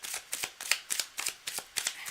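A deck of cards is shuffled repeatedly by hand during a live card-reading session. Quick crisp riffles and snaps come in a steady rhythm, close and distinct, with no one speaking.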